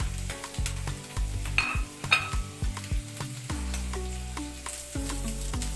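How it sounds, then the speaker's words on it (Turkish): Meat sizzles in melting suet on a saç pan, a steady frying hiss broken by repeated scraping stirs and metal clinks of a utensil against the pan, close and without talk. "Ve iç yağını koyuyoruz önden. Yağ erirken ben etleri de ilave ettim."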